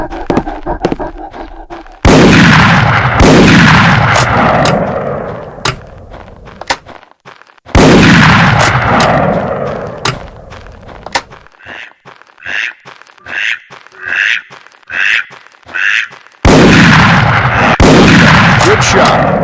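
Loud, booming shotgun blasts while hunting waterfowl in the game Bird Hunter 2003, several heavy shots spaced seconds apart with long echoing tails, and bird calls between them.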